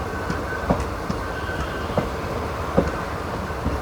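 The Penchvalley Express runs at Chiraidongri railway station, wheels clacking over rail joints in a regular rhythm beneath a steady rolling rumble, with faint squeals at moments and no talk.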